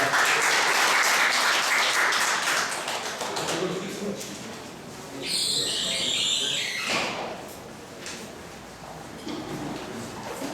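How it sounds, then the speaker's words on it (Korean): A lecture audience applauds a speaker's introduction, loud at first and then fading, with some clattering and shuffling as it dies down. "힘차게 박수로 맞으시기 바랍니다."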